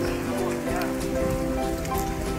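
Steady rain patters at Dieng, Wonosobo, a dense hiss of drops on surfaces running throughout while a person talks over it.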